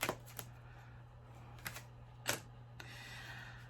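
A deck of tarot cards being shuffled, with a few sharp separate clacks and snaps and then a brief soft rustle, close and fairly quiet.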